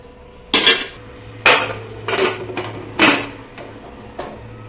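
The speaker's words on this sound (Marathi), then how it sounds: "आता कुकरचं झाकण लावून घेऊ आपण" A metal pressure cooker lid is fitted onto the pot while dal cooks, producing several sharp clanks and knocks, close and fairly loud, spaced irregularly over a low hum with no talking.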